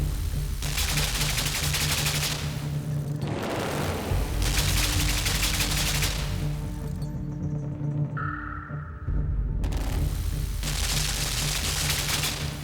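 Sustained gunfire from a machine in the video game Limbo sweeps in long, loud, noisy bursts, pausing briefly before resuming, with a dense low rumble underneath.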